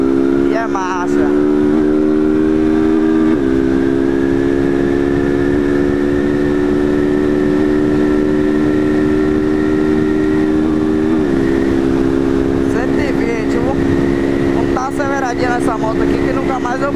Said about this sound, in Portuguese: Eu dei uma acelerada nessa moto.